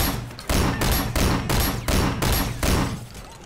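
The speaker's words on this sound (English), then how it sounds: "Oh, this is a shotgun." Rapid shotgun blasts in the driving action game Sleeping Dogs, about six loud booming shots in quick irregular succession, close and prominent with no talk.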